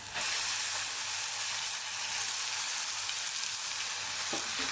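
Mutton pieces with onion paste sizzle and fry in a pan for Tamil mutton uppu kari, a loud, continuous hiss of hot oil that stays steady throughout with no talking.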